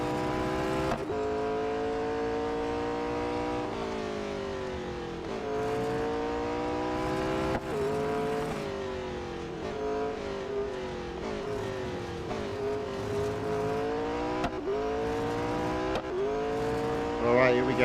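McLaren 600LT race car in Real Racing 3, its engine droning loudly and steadily through the final lap, pitch climbing and dropping with repeated gear shifts under faint speech.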